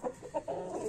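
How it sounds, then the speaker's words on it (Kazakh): Australian breed hens clucking in a poultry coop, a few soft, short clucks in quick succession, fairly faint and close. "осы австралиялық породадағы тауықтарды алған болатынбыз"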